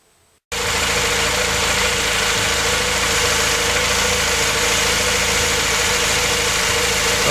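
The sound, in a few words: Honda Prelude engine started and idling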